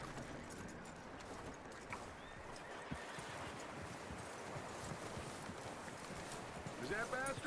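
Horse hooves clip-clop steadily over a noisy outdoor bed in the video game Red Dead Redemption 2, with a horse whinnying near the end while people talk faintly in the background.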